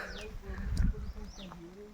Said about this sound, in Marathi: पाखरांचा चिवचिवाट